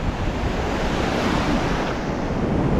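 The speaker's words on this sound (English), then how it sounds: "You can see the suds, the white water over that green, darker water that's rolling in and breaking" Ocean surf rolls and breaks steadily on a Fraser Island beach, a loud continuous wash of white water with wind buffeting the microphone and no voices.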